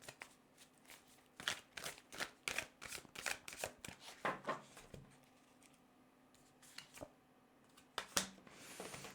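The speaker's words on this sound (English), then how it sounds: "I feel like I need to take one more card here." Tarot cards are shuffled and drawn in a quiet room, giving a run of crisp riffling flicks and slaps in quick bursts, then a brief pause before a few more close card snaps.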